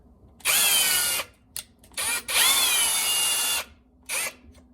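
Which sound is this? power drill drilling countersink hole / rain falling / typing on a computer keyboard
power drill drilling countersink hole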